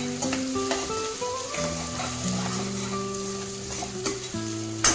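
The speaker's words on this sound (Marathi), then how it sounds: "आता हे पूर्ण असं परतून घेते।" Finely chopped onion and green chilli sauté in a hot pan for a pasta recipe, giving a steady close sizzle and crackle that runs unbroken for the whole stretch with no voices.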